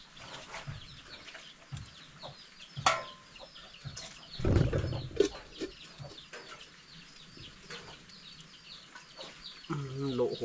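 Chickens cluck in an open-air field setting in rural Thailand near a bamboo-shoot soup cooking spot, with soft intermittent clucks and a louder burst in the middle, alongside background voices and outdoor ambience.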